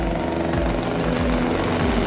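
Helicopter flying overhead on the Amarnath Yatra route via Pahalgam, a loud continuous rotor thrum with steady rhythmic chopping pulses, close and alone.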